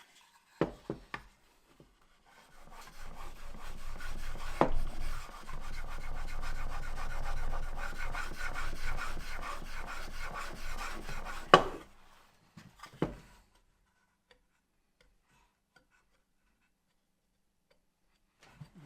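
A plane iron is honed on a sharpening system, giving a steady close rasping rub of steel on abrasive that runs for several seconds, with a few isolated scrapes and knocks before and after.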